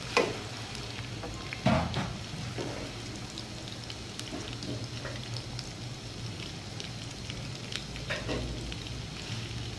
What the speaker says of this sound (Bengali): এটি আমি একটু ভেজে নিব।